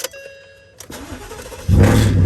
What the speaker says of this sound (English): But let's see if the truck will start up.